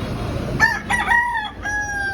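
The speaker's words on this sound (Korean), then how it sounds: "어 닭이 있어" Morning rooster crowing outdoors in Vung Tau, Vietnam: two to three clear, fairly close cock-a-doodle-doo calls follow one another over quiet street ambience, with no talking.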